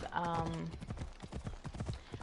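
Hooves of the horse Phobos in a PS4 game clip-clop in a rapid galloping rhythm, close and steady, while someone talks over it.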